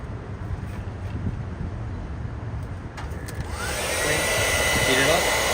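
A heat tool blows hot air onto heat shrink tubing, a steady close whooshing roar that grows louder and brighter partway through, with no voices.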